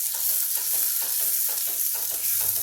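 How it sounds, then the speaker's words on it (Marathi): An urad dal mixture with fenugreek powder and oil sizzles in a pan under a loud, constant hiss, with rhythmic stirring strokes repeating roughly every quarter second. "आता पहिले मी हे जरा परतून घेते"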